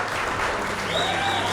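Audience applause at a grappling event, a short burst of steady clapping from a crowd filling the room, with a faint tone rising near the end.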